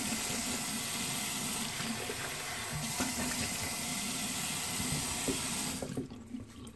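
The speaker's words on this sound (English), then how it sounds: "Let's get rinsed off." Steady water running from a tap into a sink while rinsing off after a shave, close and continuous, then cut off near the end leaving a few faint drips.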